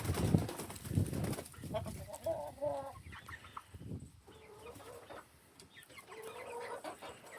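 Several chickens cluck and call near and far as they come out of a backyard coop, busy overlapping clucks with no talking.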